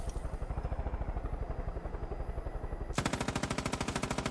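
Rapid machine-gun fire in the video game Far Cry 5 rattles in a steady burst, loud and close, with a helicopter-like drone underneath, growing sharper and louder near the end.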